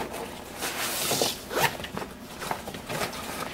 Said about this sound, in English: will help secure your zipper.